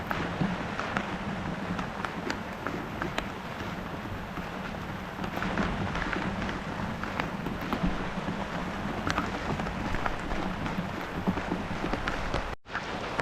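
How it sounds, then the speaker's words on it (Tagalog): Heavy monsoon rain pours down steadily outdoors, a dense continuous hiss without a break until a brief dropout near the end. "Tudong-tudo po ang ulan."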